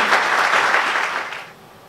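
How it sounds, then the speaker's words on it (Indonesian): A church congregation claps for God during a Sunday worship service, a loud, dense round of applause that holds steady and then fades out. "Beri tepuk tangan dulu untuk Tuhan kita."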